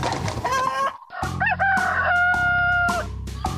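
A pet rooster crows loudly and close, with a cluck, then a long drawn-out cock-a-doodle-doo, and a short squawk at the end.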